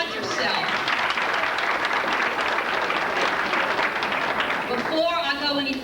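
Reunion crowd for a 1964 class's 30th gathering applauding steadily and loudly for several seconds, a dense wash of claps that stops abruptly as a voice begins to speak over the room.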